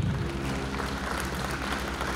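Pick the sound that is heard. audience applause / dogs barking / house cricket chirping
audience applause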